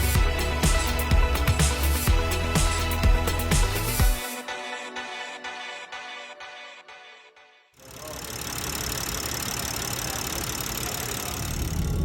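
A BMW M4 with the S55 engine idling while warming up, with a suspected valve cover fault. A loud, busy rumble is followed by a quieter stretch of rhythmic ticking, then a steady, even idle drone.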